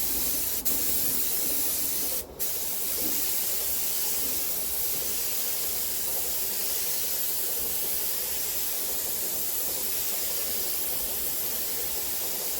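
A continuous, even hiss of a spray gun painting an engine cover at low pressure, close and steady throughout with one brief break near the start.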